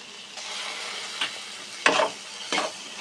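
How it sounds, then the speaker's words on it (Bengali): Onions fry in a pan with ginger, garlic and green chili paste, a steady soft sizzle broken by a few louder stirring scrapes near the end. "2-3 মিনিট আমরা পেঁয়াজটাকে একটু লাল লাল করে ভেজে নেব"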